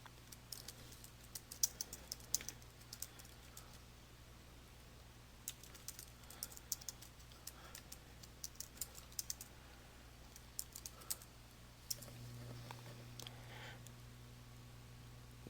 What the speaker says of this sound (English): You simply type your comment into the text box.